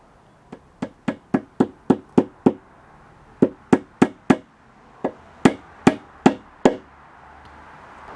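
A cut nail is hammered into a wooden face frame, with crisp, close strikes in three quick bursts of about five to seven blows each, separated by short pauses in an otherwise quiet workshop.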